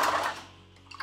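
A sewing machine stitches a gathering row on a ball gown, a brief close whir that starts loud and quickly fades toward quiet.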